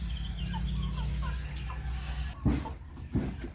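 Ducks and chickens make a busy, close-up clamor of clucks and quacks while being given feed on a farm. A couple of louder thumps or flaps stand out near the end.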